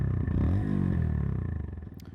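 A 2024 CFMOTO Papio SS mini motorcycle engine runs close by, with a short rev that falls back into a steady, pulsing idle, alone without voices.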